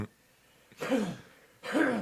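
Two harsh throat clearings, close and loud, separated by a short quiet gap.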